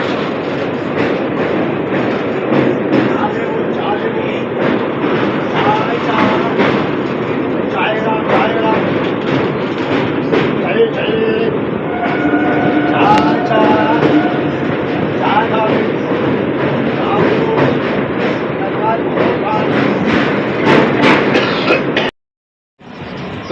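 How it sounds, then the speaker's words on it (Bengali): The Amritsar-Howrah Mail pulls into an Indian railway station: continuous loud rolling rumble with rhythmic wheel clatter for about twenty seconds, with a crowd murmuring on the platform, ending in a brief cut. "এইমাত্র অমৃতসর ঢুকলো, অমৃতসর হাওড়া মেল।"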